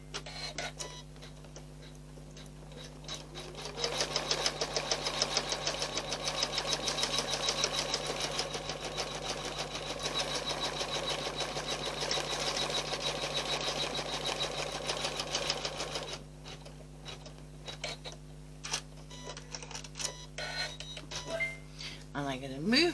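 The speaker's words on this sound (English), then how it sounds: "now it's going to tack it down with that running stitch again" An embroidery machine tacks down fabric on a mug rug with a running stitch, a steady close mechanical whir with rapid needle chatter that starts a few seconds in and stops near the end, followed by quieter handling noises.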